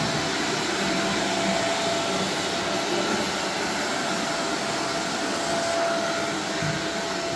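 A carpet cleaning machine roars continuously over white Berber carpet indoors, a loud, steady suction whine with a faint high tone and no speech.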